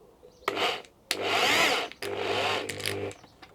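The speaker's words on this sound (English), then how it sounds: "I'm just going to screw this tight to hold the pipe together." A power drill drives screws through scrap wood pieces clamped around a pipe, three close whirring bursts of about half a second to a second each, separated by short pauses.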